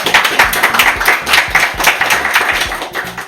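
Audience applause at a live magic show, welcoming two spectators called up on stage. Dense, close clapping fills the whole stretch at a steady level with no talk over it.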